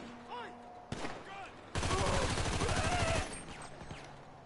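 Video game gunfire aimed at the player, a sustained, loud burst of rapid shots lasting over a second, with quieter single shots and other game sounds around it.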